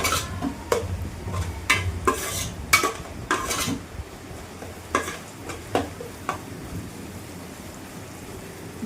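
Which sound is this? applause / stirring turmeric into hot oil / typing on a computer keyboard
stirring turmeric into hot oil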